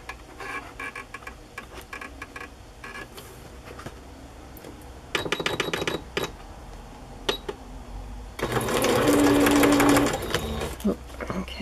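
A sewing machine stitches through a decorated journal page in stop-start runs of rapid, close ticking, with a long steady burst near the end.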